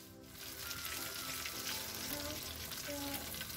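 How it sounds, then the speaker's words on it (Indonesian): Tempeh sizzles steadily in hot oil in a pan, a dense continuous frying hiss that swells after a quiet start and holds, with faint small pops and no voices. "kita goreng terlebih dahulu tempenya. Ini pastikan minyaknya itu panas ya teman-teman."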